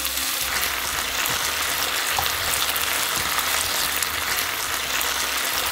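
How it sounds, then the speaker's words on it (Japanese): Cabbage stir-fries in a frying pan, giving a steady, dense sizzle and crackle that runs on evenly without pause. "キャベツがしんなりするまで炒めます。"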